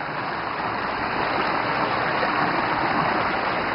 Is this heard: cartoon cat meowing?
no